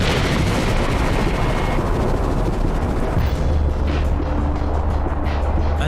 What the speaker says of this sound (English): Eventually, a ring of cracks will cause the lid to collapse and the magma chamber will explode